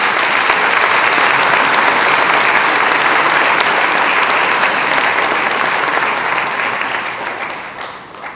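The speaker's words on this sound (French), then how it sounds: "j'aimerais ça qu'on réserve une bonne main d'applaudissement à nos employés" Audience applause fills a Caisse Desjardins de l'Érable annual general meeting, a dense, steady clapping from a large room for the employees that holds for about eight seconds before tapering off at the end.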